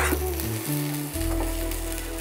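Onion fries in a pan with a steady, loud sizzle, a constant crackling hiss close by, alongside a low hum from the cooking setup.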